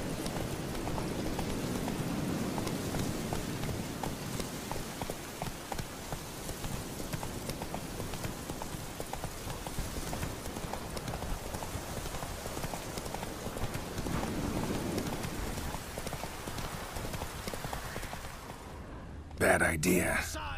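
Roach the horse gallops in The Witcher 3, hooves clip-clopping in a fast, steady rhythm under rain-like ambience, with voices heard briefly over it before an abrupt cut.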